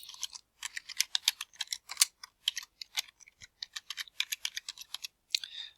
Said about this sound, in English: so I'm just going to have to type that in.